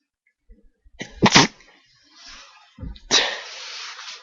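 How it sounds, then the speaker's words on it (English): A single sharp human sneeze bursts out close to the microphone, preceded by a short inhale and followed by a breathy exhale and sniffle. "And I gotta sneeze."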